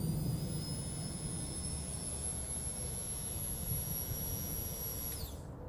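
The fuel pump on a Ducati 916 motorcycle primes with a steady, high electric whine over a low hum. It runs for about five seconds and then cuts off abruptly.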